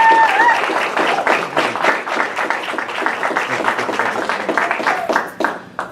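An audience at a Tea Party Patriots gathering applauds a speaker being introduced, with loud, steady, dense clapping throughout.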